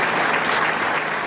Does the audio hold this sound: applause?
yes